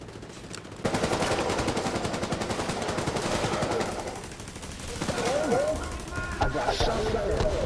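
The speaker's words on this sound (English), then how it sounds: "I got shot." Video game gunfire in The Division 2 strikes the player, rapid bursts of automatic shots crackling loudly for several seconds, pausing, then resuming, with players talking over the firing.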